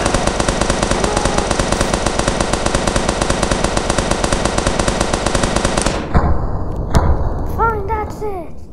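Video game gunfire in a bank robbery game, a dense nonstop rapid-fire burst that stops abruptly after about six seconds, followed by scattered thuds and game sounds with a voice speaking.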